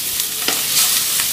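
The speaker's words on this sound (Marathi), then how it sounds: "फोडणी मस्त तडतडली बरं का, मस्त सुगंध यायला लागला." A spice tempering sizzles in hot oil while being stirred, a bright steady hiss with a few soft pops and scrapes, close and fairly loud, with no talk.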